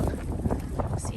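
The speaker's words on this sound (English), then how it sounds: "I'm in the shelter of the trees and it is so windy" Strong wind buffets the microphone on a woodland walk in the shelter of trees, a rough low rumbling roar with irregular gusting pulses, close and loud throughout.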